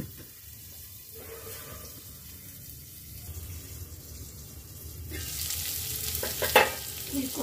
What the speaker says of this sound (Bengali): ফুলকপি আলুটা অনেকটা ভাজা ভাজা হয়ে এসেছে, এবার আমি এর সঙ্গে দিয়ে দেবো পেঁয়াজকলি দিয়ে।